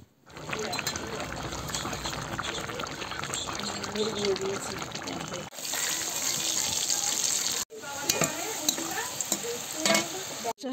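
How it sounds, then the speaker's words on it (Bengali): Fish frying in a pan at home, a steady loud sizzle with stirring and spatula scrapes running throughout, briefly cut off twice, with voices talking faintly in the background. "মাছটা ভেজে দিচ্ছে"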